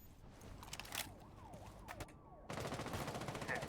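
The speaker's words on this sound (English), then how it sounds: "You hear the sirens. The sirens coming." In a Counter-Strike match on the Kafe Dostoyevsky (Cafe) map, a wailing siren sweeps up and down repeatedly amid rapid in-game gunfire crackle, moderately loud and distant-sounding.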